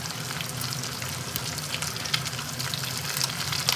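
Fish masala frying in hot oil while the pieces are turned, giving a dense, continuous close sizzle with bright crackling spits and a few clinks of the utensil, with no talking.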